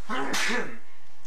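A single sharp sneeze bursts out close to the microphone, with a quick breathy intake before the explosive release and a short fading tail.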